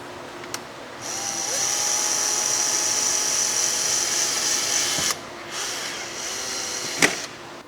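A high-pitched power drill whines steadily for about four seconds while drilling through a car's control arm cover, cuts out, then runs again briefly at lower intensity, with a sharp click near the end.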